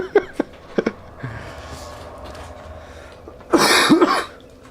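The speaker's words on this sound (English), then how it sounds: "Sorry for me coughing." A few sharp coughs at the start, then a harsher, louder burst of coughing near the end, close to the microphone with quiet background between, during Dark Souls 2 gameplay.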